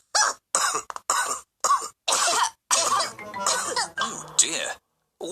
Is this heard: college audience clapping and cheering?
no